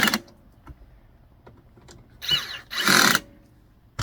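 Screws on a counter extension being tightened with a power driver, with two short whirring bursts after a few faint clicks and handling taps, close by and with no talk.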